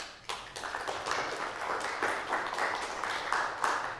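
Audience applause at the draw ceremony for the 2025-2026 Ukrainian Cup round of 32, a dense steady wash of clapping from a hall crowd that holds for the whole stretch with small swells.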